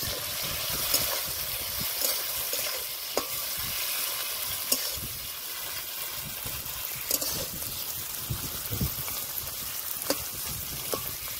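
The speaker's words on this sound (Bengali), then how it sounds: "এইদিকে মাছটা ভাজা হচ্ছে" Fish frying in hot mustard oil sizzles steadily in a pan with occasional pops and crackles, a continuous frying sound at moderate volume with no voices.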